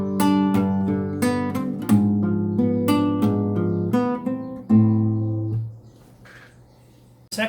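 Fingerstyle guitar arpeggios on a song, including a diminished chord, with plucked notes in a steady rhythm that ring into a held chord and fade near the end.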